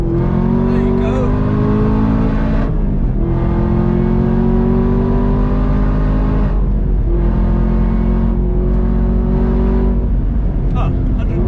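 A Chevrolet Camaro ZL1 1LE accelerates hard on a race track, its loud engine note climbing through the gears in long rising sweeps with brief dips at each shift, heard from inside the car.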